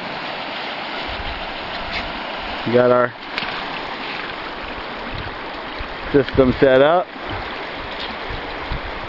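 River water rushes steadily and loudly through a gold mining setup beside a granite bank, a constant broadband roar, while someone speaks briefly over it twice.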